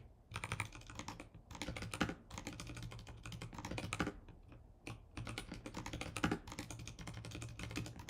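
Rapid typing on a computer keyboard, close and clicky, in bursts of keystrokes separated by brief pauses, with no voices.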